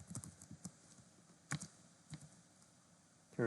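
Clicks of someone typing on a computer keyboard while writing SPSS syntax, a few sparse, quiet keystrokes with pauses between them and a louder tap near the end.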